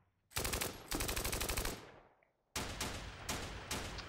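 Machine-gun fire from the Steel Panthers wargame in an Iran-Iraq war battle, loud rattling bursts separated by a short gap, then more clipped bursts of firing.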